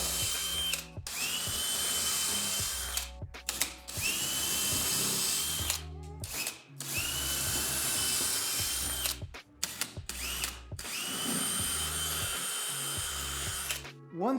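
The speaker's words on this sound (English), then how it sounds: "Now that the holes are marked, we're gonna get to drilling." A power drill bores pilot holes in wood for a stair railing, whining in several long sustained bursts of a few seconds each, separated by brief pauses and clicks as the drill stops and restarts.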